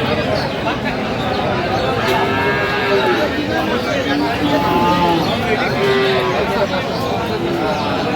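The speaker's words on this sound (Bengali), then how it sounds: "গাভী বাছুর আমরা দেখছিলাম এখানে" Dairy cows and calves low repeatedly at a busy rural cattle market in Dinajpur, Bangladesh, their moos rising through a dense background of crowd chatter.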